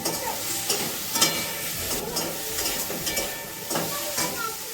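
Pointed gourd (potol) fries in a pan with a loud, close sizzling hiss, broken by repeated stirring scrapes of a spatula at a steady rhythm.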